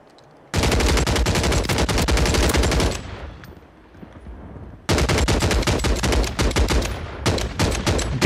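DG-58 LSW firing in Warzone: two long, loud bursts of rapid automatic fire separated by a brief lull, sustained and close.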